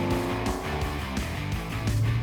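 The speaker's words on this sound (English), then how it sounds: "It sounds like a muscle car or like a growling beast." A Rvan tank armored SUV's engine growls loudly and continuously up close, a deep rumbling drone with rising revs and no speech.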